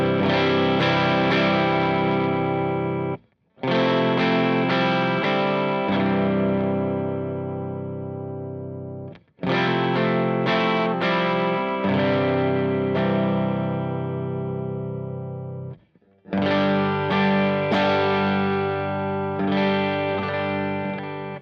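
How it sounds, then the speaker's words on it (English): An electric guitar runs straight into an amp with no pedals, kept fairly clean. Full strummed chords ring out in long sustained phrases, with three short silent breaks between them and no talking. "I'll just give you an idea of kind of what the amp sounds like."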